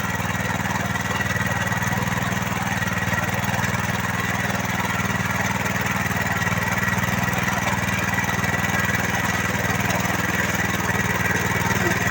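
A rotavator tills a garden bed for planting rows of garlic and onions, its engine droning steadily and loudly at a constant pitch throughout, with no voices.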